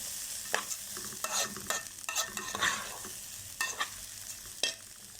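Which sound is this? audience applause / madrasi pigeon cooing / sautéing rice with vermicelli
sautéing rice with vermicelli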